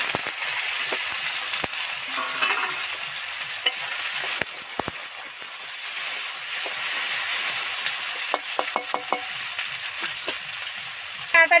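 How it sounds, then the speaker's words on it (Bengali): Chopped onions hit hot oil already crackling with dried red chili and bay leaf, giving a loud, close, continuous sizzle broken by scraping spatula strokes and clicks as they are stirred. "এবার টুকরো করা পেঁয়াজ কটা তেলের মধ্যে দিয়ে দিচ্ছি।"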